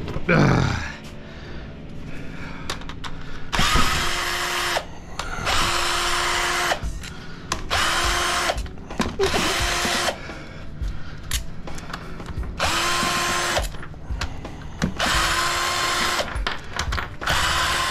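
A power tool, drill-like, loosens bolts on a big heavy piece of e-waste scrap in repeated whining bursts of a few seconds each, close and loud, with pauses and background handling noise between runs.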